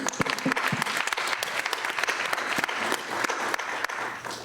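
An audience at an education forum applauding: dense, steady clapping from many hands, loud and close, sustained throughout with no talk over it.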